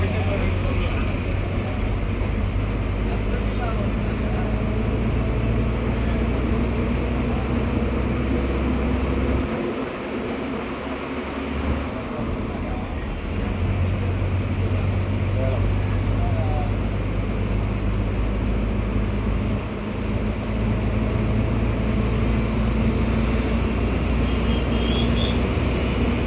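A full-cabin intercity bus on the Cuddalore–Virudhachalam–Tiruppur route drives on and swings through a sharp left turn, its steady low engine drone and road rumble continuous and close, with passengers talking over it.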